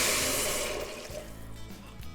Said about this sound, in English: Now, I'm just adding water